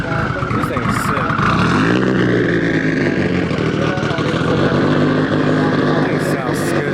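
A big-turbo Mitsubishi Evo at a supercar meet runs loud and close, its engine note rising and falling as it revs, while people talk over it.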